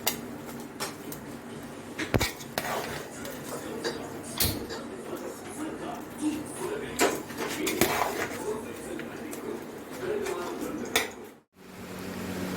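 Cooked chitranna lemon rice being tossed and stirred in a pan on a switched-off stove with coriander leaves added, giving soft scraping and intermittent metallic clinks of utensil on pan under someone talking.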